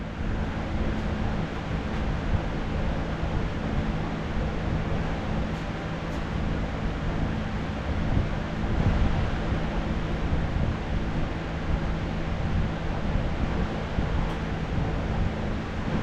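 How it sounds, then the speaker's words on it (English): A steady, broadband whooshing hum of running fans fills the space continuously, with a low droning tone underneath. "I have to have the fans to keep the temperature down"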